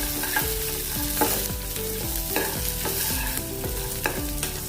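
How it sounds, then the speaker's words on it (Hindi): Dried red chilies and green chilies roasting in a pan for a no-oil breakfast, with a steady close crackle and sizzle broken by repeated scrapes and stirs of a utensil. "अभी इसमें हम डालेंगे सूखी वाली लाल मिर्च, हरी वाली भी मिर्च डालेंगे। इसको भी हम थोड़ी देर भूनेंगे।"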